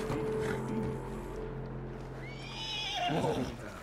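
A horse whinnies and snorts in the video game Red Dead Redemption 2 over a low, steady hum, with a soft clip-clop of hooves; the neigh rises sharply near the end.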